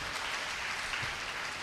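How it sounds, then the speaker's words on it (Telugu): Audience at a spiritual talk clapping loudly, a brief burst of dense, steady applause with no voice over it. "గట్టిగా చప్పట్లు కొట్టండి"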